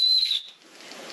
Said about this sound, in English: Let's see what the whistle's sounding like.